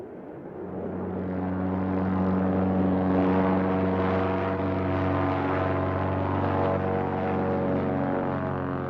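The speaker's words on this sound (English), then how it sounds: "Even the most remote corners of the province are well served by convenient air links, perfect for float planes." A float plane's propeller engine drones steadily and loudly, building up in the first second and then holding a strong humming roar throughout.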